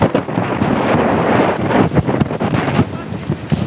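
Strong wind roars across the open sea near Kihnu during a sailing camp, buffeting the microphone with loud, gusting rumble and the wash of waves throughout, with no voices over it.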